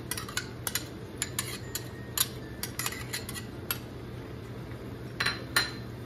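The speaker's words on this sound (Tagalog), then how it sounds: "Ngayon lalagay natin itong ating oyster sauce." Oyster sauce going into a pan of chopsuey vegetables with cabbage, marked by scattered light metallic clinks and taps of a utensil against the pan over a steady low background hum.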